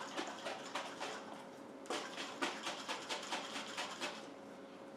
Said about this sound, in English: I'm going to give this a good vigorous shake